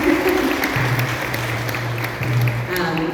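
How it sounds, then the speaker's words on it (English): An audience at an ISKCON Toronto lecture gives a steady round of applause, dense and sustained for several seconds with no break. "Again, another round of applause."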